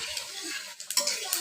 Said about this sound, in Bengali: মরিচটা আমার ভাজা ভাজা হয়ে এসেছে, দিয়ে দিলাম বেশ কিছুটা পাঁচফোড়ন